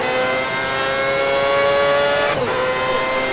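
A Formula 1 car engine from the F1 2010 racing game at Montreal drones loudly and steadily, with a strong harmonic whine that dips sharply near the end as the car brakes and downshifts.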